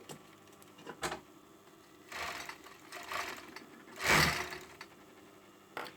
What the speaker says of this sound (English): So whilst I'm here, I may as well overlock the bottom of the cuffs.